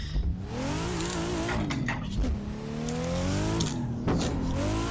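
A BMW drift car's engine revs hard in Assetto Corsa, rising and falling in loud sustained surges with brief dips between throttle blips, alone without talk.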